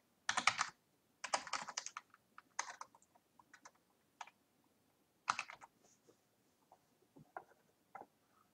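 Bursts of quick keystrokes on a computer keyboard entering a food item into a meal planner, close and crisp, with short pauses between clusters and no talking over them.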